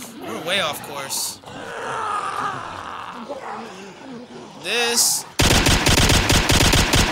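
Rapid automatic gunfire in a survival video game bursts out loudly near the end, after a stretch of in-game groans and someone talking.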